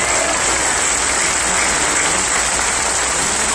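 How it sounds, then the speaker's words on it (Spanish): A large outdoor crowd at a presidential rally in Guaymas, Sonora applauds, a loud, unbroken wash of clapping with a faint high whine running through it. "Un aplauso para ellos."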